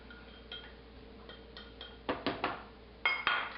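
A spoon works cacao into brownie dough in a bowl, giving scattered light ticks and then a few louder clinks and scrapes against the bowl in irregular bursts, close and with no talking.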